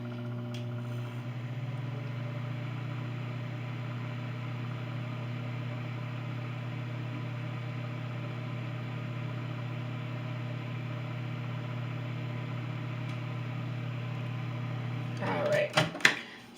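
A microwave oven hums steadily for a long stretch, then a few clicks and clatters near the end as the door opens.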